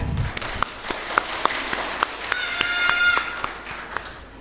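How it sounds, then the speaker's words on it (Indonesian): Scattered clapping at a Christmas church service, sparse claps and taps spread over several seconds with a faint tonal sound in the background. "Sekali lagi kita berikan tepuk tangan yang meriah."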